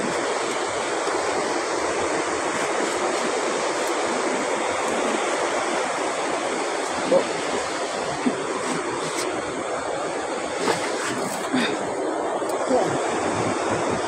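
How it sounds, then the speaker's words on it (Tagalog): Strong current of the Madlum river rushing steadily in a broad, continuous roar, with a few faint knocks and bumps over the water noise and no talking. "Lakas ng agos."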